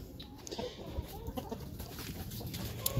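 Rooster and hens cluck softly in a backyard coop, a quiet, steady scatter of short clucks at moderate distance.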